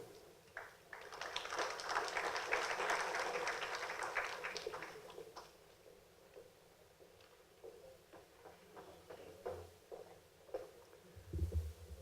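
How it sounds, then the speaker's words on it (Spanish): Applause from a conference audience swells and fades over several seconds, followed by scattered claps, shuffling and faint room noise. "Un fuerte aplauso para los señores expositores."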